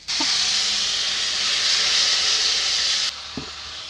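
Water poured into a hot pan of chilli powder and turmeric for a Bengali katla fish curry with ridge gourd and potato hisses in a loud, steady sizzle, then cuts down sharply to a quieter simmer near the end.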